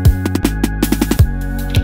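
An Elektron Digitone synthesizer plays a short 16-step ending pattern that loops, with punchy low kick hits and bright plucked tones over a sustained bass drone, close and clean with no voices.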